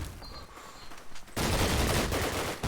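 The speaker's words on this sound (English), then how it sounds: "creating havoc with the PPSH, getting 2 kills around that ruins area" A PPSh submachine gun fires in a video game match, a sustained loud burst of rapid automatic fire that cuts in halfway through after a quieter stretch of background game noise.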